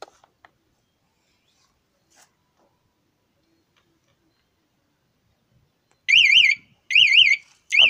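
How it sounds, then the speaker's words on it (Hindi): An aftermarket anti-theft alarm fitted to a Massey Ferguson 241 DI tractor sounds after a few quiet seconds with faint clicks, giving loud warbling electronic siren bursts in three pulses near the end. "आप देख सकते हैं अलार्म बज गया।"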